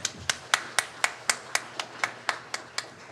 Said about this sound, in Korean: 한번 우리 축복의 박수하도록 하겠습니다